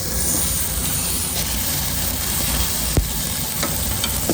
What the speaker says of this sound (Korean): 고기 올려드리겠습니다.